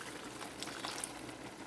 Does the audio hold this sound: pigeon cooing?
no